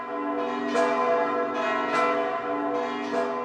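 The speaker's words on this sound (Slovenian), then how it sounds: "Tako v dveh kapelicah kot v glavni cerkvi župnije sicer več ne zvonijo ročno, zvonike so elektrificirali." Electrified church bells ring from chapel and parish church towers, a dense sustained peal of overlapping metallic strikes with rich lingering overtones and steady loudness, no voices.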